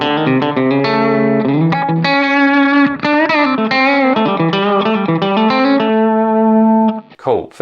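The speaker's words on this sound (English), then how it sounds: "slapback is basically a really short and quick repetition of the notes after you've played them" Electric guitar notes played through a country-style setup with compression and a short slapback delay, each picked note followed by a quick echo; a steady, loud melodic line with sustained chords, ending abruptly.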